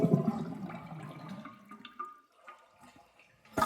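A 1979 Norris toilet flushes with a rushing gurgle of water that fades into quiet trickling and a few faint drips, then a sharp clunk at the end.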